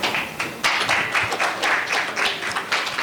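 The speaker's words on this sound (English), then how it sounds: "Come on guys, a big clap please." Audience clapping during a memento presentation at a corporate highlights event, a brisk, fairly close burst of many hands with distinct individual claps standing out, no talk.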